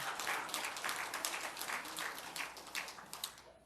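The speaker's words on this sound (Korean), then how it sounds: "박수 한번 쳐주세요." A church congregation applauding during a Sunday morning worship service, a brief burst of many hands clapping at once, fairly distant and soft, fading out after a few seconds.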